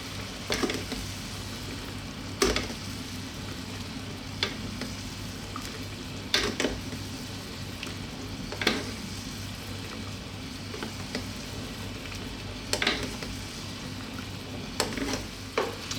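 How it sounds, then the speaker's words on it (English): Salmon fillet sizzling in a lemon, garlic and butter sauce in a pan, a continuous frying hiss broken by repeated sharp scrapes and clinks of a spoon basting the fish, close and steady. "we're going to be basting this sauce over the fish"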